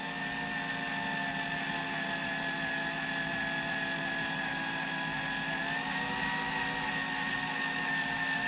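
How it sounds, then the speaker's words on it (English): A drill bores slowly and steadily through a brand-new car hood, giving a constant whining tone that shifts pitch slightly partway through, close and continuous with no talking. "now I'm drilling real nice and slow."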